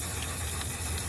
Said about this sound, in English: This is hairspray, paint, and it's supposed to be for your hair.